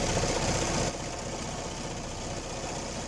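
A sewing machine runs steadily while stitching fabric for a kids' sewing project, its continuous mechanical whir close and unbroken, with a slight drop in level near the start.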